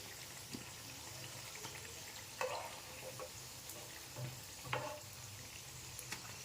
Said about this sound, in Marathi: चांगला मिडियम आचेवरच आपल्याला हे तळून घ्यायचं आहे